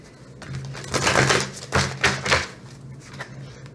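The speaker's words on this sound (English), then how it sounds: "You guys just saw me shuffle." Tarot cards are shuffled by hand in a few quick riffling bursts, close and crisp, with short pauses between them.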